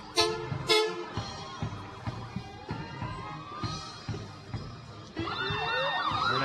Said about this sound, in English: First we get a big fire truck, then the ambulance, 2 of them coming through.